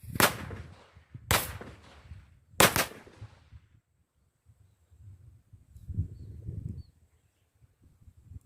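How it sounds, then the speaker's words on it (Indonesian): Three sharp blasts from a Diamond Vertigator firecracker ring out about a second apart, loud and close, followed by quieter rumbling and crackle. "Ini dia petasan diamond vertigator."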